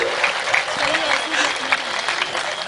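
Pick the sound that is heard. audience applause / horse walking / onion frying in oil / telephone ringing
audience applause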